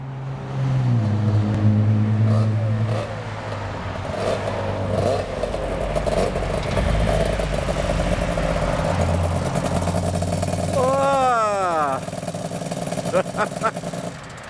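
A two-stroke motorcycle such as a Yamaha RD400 or Honda NS250R idling and revving outdoors, a raspy engine rising and falling with a sharp rev sweep near the end, while people talk.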